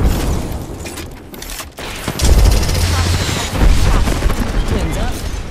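Frag grenade explosion in Apex Legends, a loud deep boom that rolls into a long rumbling blast amid gunfire and game effects, with a player talking over the action.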